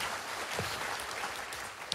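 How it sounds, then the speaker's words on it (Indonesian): Dense, continuous applause from a church congregation during a Sunday service, steady throughout with no talking over it. "Berikan tepuk tangan dulu buat Allah kita."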